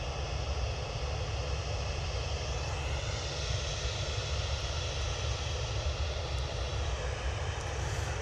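A Swissair A380 Neo airliner arriving from Zurich at Manchester Airport gives off a steady, loud jet roar that holds evenly throughout with no voices.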